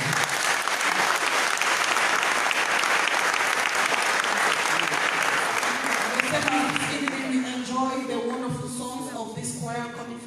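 A church audience applauds a choir with loud, dense, sustained clapping that gradually thins toward the end as a voice begins speaking over it.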